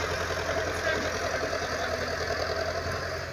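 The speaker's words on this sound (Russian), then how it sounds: "Ой, как мне нравится. Такой маленький тракторик вообще." A small tractor idling on a garden plot being ploughed, a steady mid-pitched engine chug with light knocking, fairly close and easing slightly toward the end.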